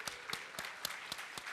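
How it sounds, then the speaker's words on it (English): Scattered, moderately loud clapping from a crowd, sharp individual claps spaced unevenly over a brief stretch. "Let's give Chris a round of applause."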